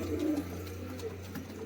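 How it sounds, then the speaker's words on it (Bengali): Pigeons in breeding season, a pair of Madras-type fancy pigeons, coo steadily in low rolling phrases close by, with soft repeated calls layered over a constant background hum. "একদম গরম ডাকের পায়রা"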